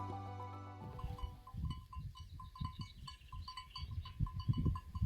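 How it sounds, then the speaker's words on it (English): Sheep bells clink faintly and irregularly in the Norwegian mountains at morning, light metallic tinkles scattered over a soft low rumble of outdoor background. "we woke to the sound of sheep bells"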